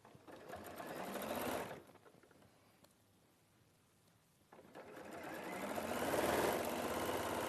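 A sewing machine stitching a bag flap runs in two bursts of rapid mechanical whirring and needle clatter, with a quieter pause between them and light voices faintly in the background.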